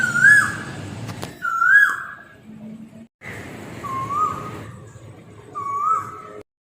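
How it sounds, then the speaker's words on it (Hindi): An Asian koel calls at midnight, its rising whistled notes repeating in several separate phrases, fairly loud and near against a quiet night background. "इस तरह हमें कोयल भी जगा देती है आधी रात को"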